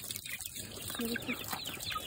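A Rhode Island mother hen clucks softly nearby with short, low calls, mixed with faint chirps from her roughly 20 chicks and background chatter.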